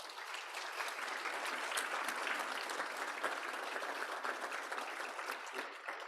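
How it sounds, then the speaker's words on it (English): Applause at a panel discussion on houselessness and transportation safety, a moderate, fairly distant crowd clapping evenly and continuously for several seconds. "Can we get a round of applause?"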